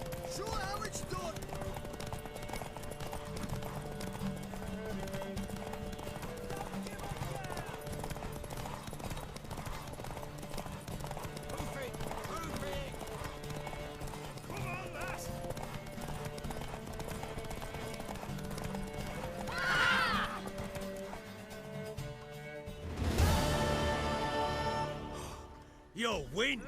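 A horse gallops with rapid, rhythmic hoofbeats throughout, under occasional speech, ending with a loud burst of noise near the close, in the video game The Witcher 3: Wild Hunt.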